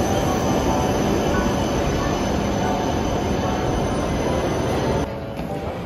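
A train running from Tokyo Station to Karuizawa Station, heard from inside as a loud, steady rumble and hiss of wheels on rails with a faint high whine, the noise easing slightly near the end.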